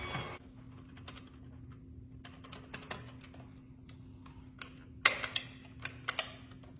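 A stand mixer runs on low through banana bread batter, giving a steady, faint motor hum broken by light ticking and clicking taps that grow sharper toward the end.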